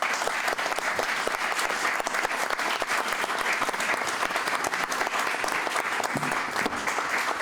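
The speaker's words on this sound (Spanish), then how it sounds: "y este aplauso, Peña, es para vos." Audience at a book presentation giving sustained applause, dense continuous clapping from a roomful of people at moderate volume.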